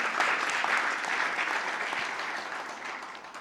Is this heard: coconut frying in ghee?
no